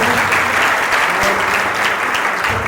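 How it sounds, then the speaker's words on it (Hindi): Loud, sustained applause from an audience at a college career guidance session, a dense steady wash of many hands clapping without break. "एक बार जोरदार तालियों से"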